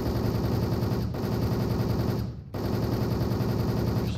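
Rapid automatic gunfire in the video game Starflare rattles on almost without a break, loud and dense, with two brief gaps in the stream of shots.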